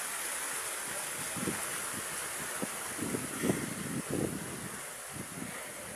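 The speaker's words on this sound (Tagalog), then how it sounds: "kasi sobrang lakas talaga ng hangin" Strong wind gusts past a hut shelter near a burned college in New Washington, Aklan, with a steady roaring wash over rain, and several low buffeting thumps against the microphone.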